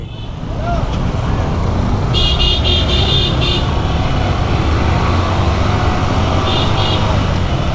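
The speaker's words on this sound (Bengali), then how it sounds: "এত বাইকার ঢুকছে" Motorcycles and other traffic moving through a road checkpoint on the way to Sajek Valley in Rangamati, a loud steady engine roar close by with short bursts of horn tooting.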